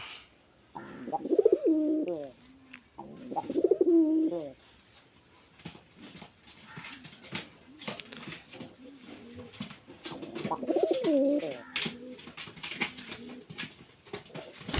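Caged local pigeons coo in a few throaty, rolling bursts, near and moderately loud, separated by stretches of quieter background rustle.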